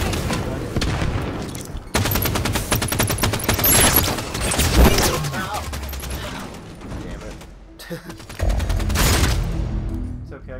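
Dense gunfire and explosions rattle through a Halo 5 beta multiplayer match, bursts of automatic fire and booms running nearly continuously over the whole stretch, with loud game audio and voices callouts mixed in.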